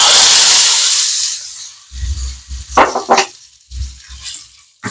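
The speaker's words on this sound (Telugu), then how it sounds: "ఈ తాలింపు ఇందులో వేసేస్తున్నా." Hot tempering poured into raw mango pulusu, a loud hissing sizzle at the start that fades over about a second, followed by soft clinks and stirring knocks from the pot.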